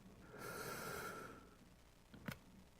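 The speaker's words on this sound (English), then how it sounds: "A few breathing exercises." A long, soft inhale through the nose during a guided breathing exercise, followed after a pause by a brief, sharper snort-like breath, all quiet and close.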